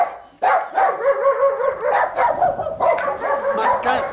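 A dog barks in a quick series of loud, close yips and woofs that follow one another for several seconds with short gaps, with no talking.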